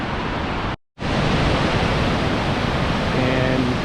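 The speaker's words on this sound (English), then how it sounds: "And here's another view of the Upper Falls." Upper Mesa Falls in Idaho roars in a steady, dense rush of falling water, loud and unbroken except for a brief dropout near the start.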